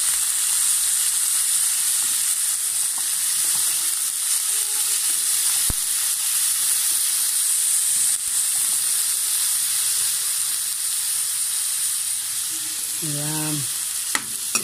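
Ground pork browning with squash chunks in a pan, a steady loud sizzle of frying running throughout with occasional scrapes of stirring, and a brief spoken word near the end.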